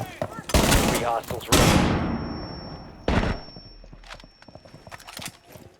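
An SMG-11 fires in Rainbow Six Siege Terrorist Hunt, with loud, close bursts of rapid gunfire followed by a single sharper burst and fading echoes and clatter.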